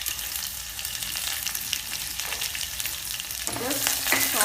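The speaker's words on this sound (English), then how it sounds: "Just saute this a little bit, and while it is frying" Okra and curry leaves sizzle and crackle in hot oil, with a steady frying hiss and occasional stirring clinks that grow a little louder near the end.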